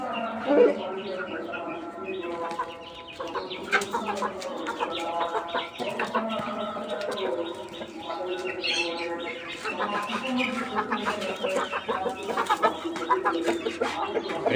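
Chickens cluck and call throughout a busy poultry farm, dense overlapping bird sounds with people talking over them.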